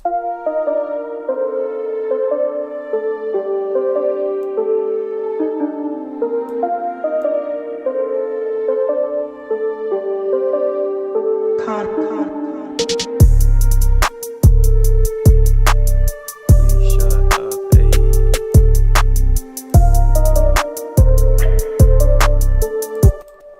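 Mellow melodic instrumental plays, then a hip-hop beat made in FL Studio kicks in with punchy booming drums and crisp hits looping steadily under the tune.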